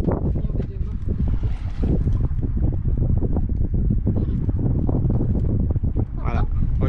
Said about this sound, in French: on part tranquille à la voile